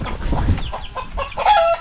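Chickens cluck in a short burst of rapid, close calls, several irregular clucks tumbling over one another with a slightly higher squawk near the end.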